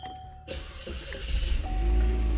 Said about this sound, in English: We gotta go ahead and start the car.